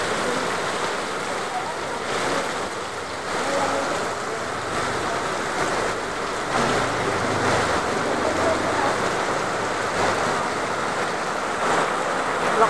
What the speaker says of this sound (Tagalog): Grabe lakas ng ulan.